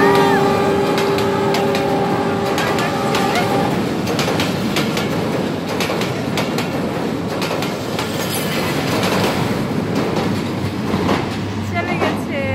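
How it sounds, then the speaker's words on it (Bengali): A train rolls past in the morning fog, opening with a sustained horn-like tone over heavy rumble, then rhythmic wheel clatter and squeal, loud and near throughout. "ট্রেন চলে এসেছে এই সকালবেলা কুয়াশা ঢাকার মাঝখানে"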